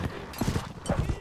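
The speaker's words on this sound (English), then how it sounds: "I'm on a horse" A horse walks in a video game, with clip-clop hooves in an even rhythm over faint background sound.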